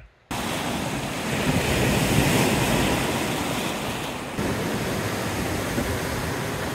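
Waves wash steadily onto a lake beach on an island in Wisconsin, a continuous broad rushing surf mixed with wind buffeting the microphone, fairly loud and with no talk.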